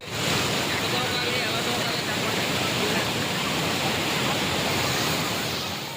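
Steady broadband rush of flowing water running alongside a temple entrance, continuous and fairly loud throughout with no break, like a stream or channel close by.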